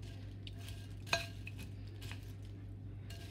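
A spoon stirs melted chocolate through cornflakes in a bowl, giving soft crunchy rustling with one sharp clink of metal on the dish, quiet and close.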